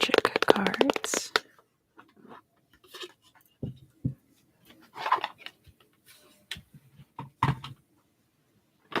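Flower Magic oracle cards are shuffled and handled up close, giving a dense burst of card riffling at the start and then scattered soft taps and slides of cards, with quiet pauses between.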